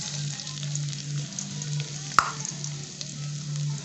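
Garlic and onion sauté in a small amount of hot oil in a pan, giving a steady close sizzle with a brief sharp clink partway through.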